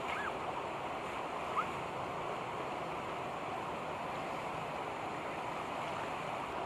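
Water pouring and splashing during free washing in a river, a steady broadband rush of running water that fills the whole span with no clear breaks.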